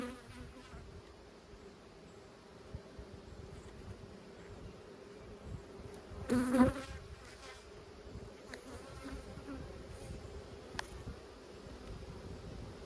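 Honeybees buzz steadily around an open hive during an inspection, a dense close hum with a brief louder burst near the middle and a faint rustle, no talking.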